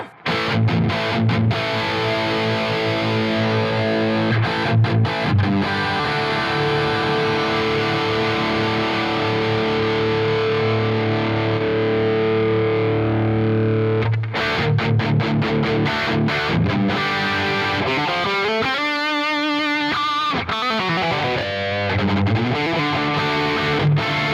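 A heavily distorted electric guitar through the Neural DSP Archetype: Tim Henson plug-in plays sustained power chords and riffs, loud and saturated, with a swirling effect-laden passage near the end.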